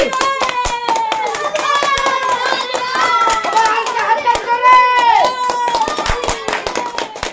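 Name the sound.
group clapping for a child who won a game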